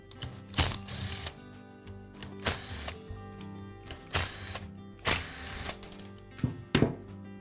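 A cordless screwdriver whirs in short repeated bursts, about five of them, backing screws out of the rear cap of a DeWALT hammer drill, with small clicks and clatter of parts between bursts, close to the microphone.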